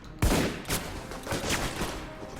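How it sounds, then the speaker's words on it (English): A top-tier shotgun firing in Alpha Protocol, one sharp close blast followed by a few fainter repeated shots over a continuous busy game background. "I'm sure part of that has to do with the top tier shotgun I'm now rolling with."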